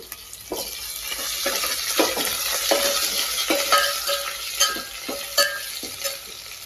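Ginger garlic paste fries in a pan for a solo la biryani with kandi kaya, a steady close sizzle broken by repeated stirring scrapes and clinks at an uneven rhythm, with no talk.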